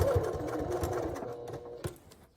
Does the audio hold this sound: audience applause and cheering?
no